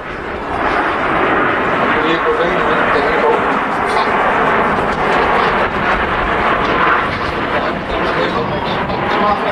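Frecce Tricolore jet aircraft perform aerobatic maneuvers including a barrel roll, producing a loud, sustained broadband roar that swells slightly, with a person talking over it.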